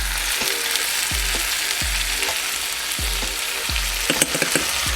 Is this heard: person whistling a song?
no